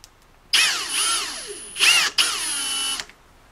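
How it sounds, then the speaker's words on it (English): A drill runs with a Smith & Wesson M&P 9mm trigger part mounted in its chuck, giving a close, high whine that starts, dips briefly, restarts and then stops. "You're just going to be sanding this with the drill running."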